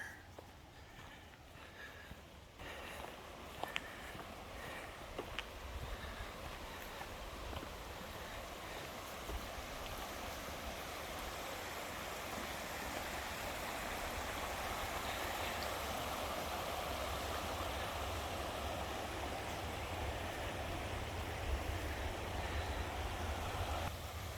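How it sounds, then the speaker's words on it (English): A river stream flows near a lunch stop in Yellowstone, a steady broadband rush of water that builds gradually and runs continuously for the full span, with a few faint knocks near the start. "This is gonna be our little stop by a river."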